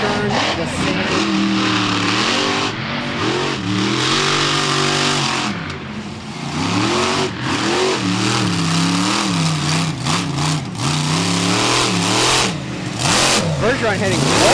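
Monster truck engine roaring and revving continuously while spinning donuts in beach sand at Wildwood, New Jersey, loud and close, with surging pitch changes and a commentator talking over it.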